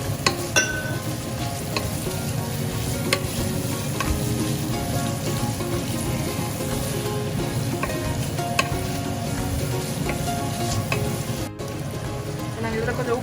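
Freshly cut green chillies fry for a Jaffna-style deer curry, giving a steady, close, dense sizzle throughout with occasional stirring scrapes and clinks in the pan.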